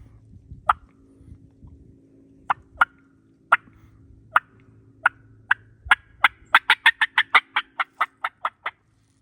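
A mouth call imitates a wild turkey hen's fly-down cackle: a few spaced, sharp yelps, then a fast, accelerating burst of clucks that slows again at the end. The call is close and clear, with no other sounds.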